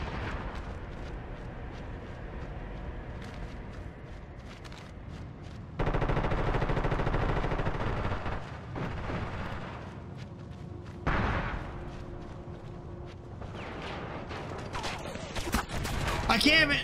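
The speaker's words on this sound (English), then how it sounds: "They're staggering their grenades." Gunfire and heavy grenade blasts in SOCOM Confrontation played on the RPCS3 emulator, rapid bursts with several loud booming explosions staggered across the stretch, under a player's talk.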